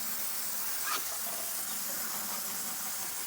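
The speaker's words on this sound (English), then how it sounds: "But we're doing this with no pressure, I mean a garden hose pressure." A garden hose sprays water at low household pressure, rinsing sodium hydroxide soap off cedar shake siding: a steady, faint hiss of spray throughout, with a brief brighter splash near the start.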